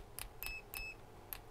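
A Tooltop ET829 multimeter gives short continuity-test beeps, about three quick high tones with faint clicks, quiet and close.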